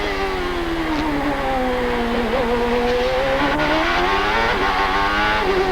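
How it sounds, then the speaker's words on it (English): A 1999 CART race car at the Long Beach street circuit, heard from onboard Richie Hearn's car, its engine screaming loud and close as it rises and falls through gears, then pulls hard under acceleration. "Watch how hard this thing accelerates once he gets back onto the old section of the track"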